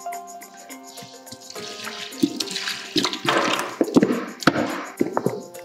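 Cold water is poured over premix into a pani puri machine, making loud splashing and gushing with a few hollow thunks. It builds over several seconds, with no voices.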